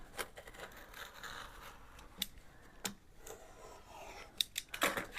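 Scissors trim the pages of a vintage book, giving a few sharp, close snips spread across a quiet stretch, with a quick cluster of cuts near the end.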